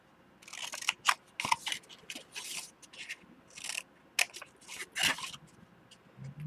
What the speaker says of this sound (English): On the square, you're going to just cut on the one side of each square.